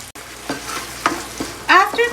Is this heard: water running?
no